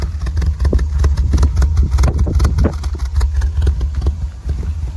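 A Volkswagen Golf 1 GLI, just repaired after a fuel pump relay wiring fault, idles with a slightly weak, uneven low rumble and steady pulsing throb, close and continuous throughout.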